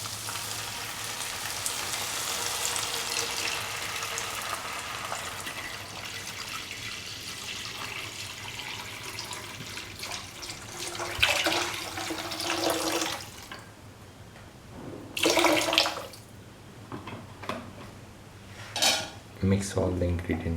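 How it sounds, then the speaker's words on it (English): Water poured into a pot of black-eyed bean and capsicum stew, a long rushing stream followed by clanking of a utensil stirring against the pot, with a faint hum behind. "Pour in 1 liter of water."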